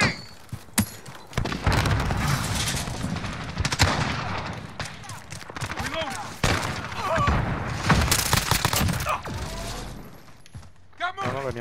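Grenade blast and heavy automatic gunfire in Call of Duty Modern Warfare team deathmatch, a dense, loud barrage of rapid shots and booming impacts running almost continuously, with game voices shouting over the combat.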